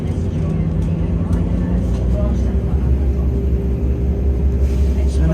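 Class 172 diesel multiple unit operated by West Midlands Railway pulling away from Langley Green station, a steady low engine rumble and drone heard from on board, continuous and fairly loud throughout.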